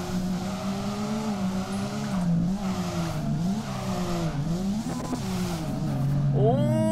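A stock Nissan 350Z drifting in second gear in DRIFT21, engine held high and wavering as the throttle is worked, with tire squeal through the slide and a rising rev at the end.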